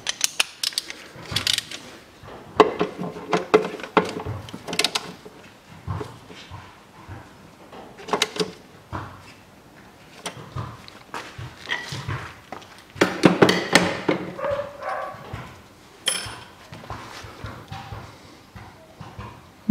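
Tightening the tensioner roller on the engine of a 2008 Chevrolet Lanos during a timing belt change: irregular ratcheting clicks, metallic knocks and tool clatter, close by and stop-start, with no talking.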